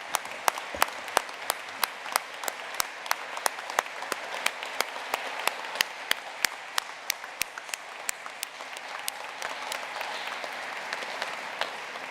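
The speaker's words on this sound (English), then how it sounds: "We can stand up and give them a round of applause." A standing round of applause for graduates at a commencement ceremony, with several sharp, close individual claps ringing out over a softer, sustained crowd clapping bed.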